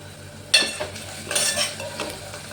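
Onions and green chillies fry with salt in a pan, a soft sizzle underneath a few sharp stirring scrapes and clinks of a spoon against the vessel, close by with no talk.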